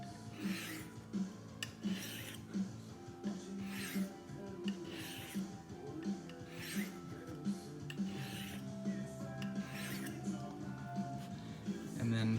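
An everyday-carry pocket knife is stroked across sharpening stones in a steady rhythm of soft, close gritty rasps, each pass rising and falling about once a second against quiet background hiss.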